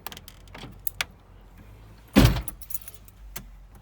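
Power door locks on a Toyota Previa actuating by themselves from a phantom lock fault, a sharp loud clunk near the middle with a few fainter clicks around it, close and indoors-quiet, no talk.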